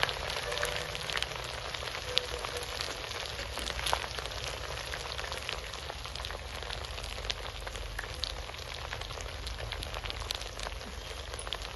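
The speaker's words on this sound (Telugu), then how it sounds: "వేగిపోయింది కదా, మధ్యలో ఆయిల్ ఉంది కదా, చక్కగా ఎర్రగా ఫ్రై అయిపోద్ది ఇక పేస్ట్ అంతా" Curry paste fries in oil in a pan, giving a dense, steady crackling sizzle like light rain that runs on evenly without a break, close up and with no voices.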